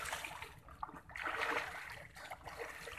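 Water splashes and sloshes faintly as people swim in a river, irregular bursts of splatter rising and falling over a quiet outdoor background.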